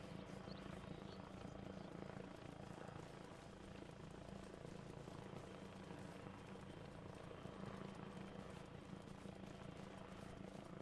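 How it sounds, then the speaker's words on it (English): A helicopter passes overhead in apparent trouble during a night-time military simulation training exercise, its loud, continuous rotor and engine roar filling the scene steadily with no talk. "Oh, that helicopter doesn't look very healthy."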